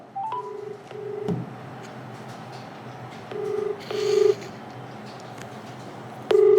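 A series of telephone keypad tones, single beeps spaced irregularly with pauses between them, clear and close over a faint background hiss.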